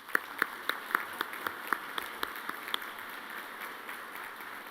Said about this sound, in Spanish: escribana Beatriz Argimón, para quien pido un aplauso.